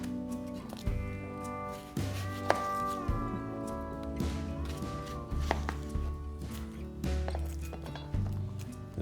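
A knife chops a yellow onion on a cutting board, a run of close, irregular knocks and thuds with steady tonal background music underneath.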